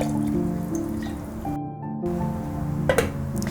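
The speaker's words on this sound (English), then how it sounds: "we're just gonna pour in about a cup of brandy or whatever's to your liking" Brandy poured into coffee gives close dripping and trickling liquid sounds with a soft squish, set against a steady kitchen background hum, ending in a couple of sharper splashes.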